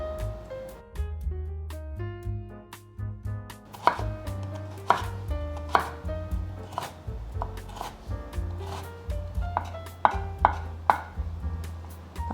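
Daikon radish chopped with a knife on a board, a close run of crisp, fairly regular cuts that grows quicker and sharper after a slower start, with no talking.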